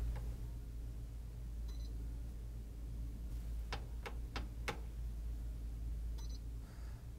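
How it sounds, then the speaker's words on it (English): A refrigerator control board in diagnostic test mode, checked for a thermistor problem, gives short, faint electronic beeps, spaced several seconds apart, over a low steady hum, with a quick burst of clicks between them. "The control beeps 2 times, then you should hear the compressor start."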